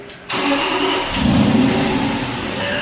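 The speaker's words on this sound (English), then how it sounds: "this is the car starting" An Aston Martin V8 Vantage engine cranks and fires up loudly, catching with a sudden roar, rising through a brief rev and settling into a throaty idle, close by.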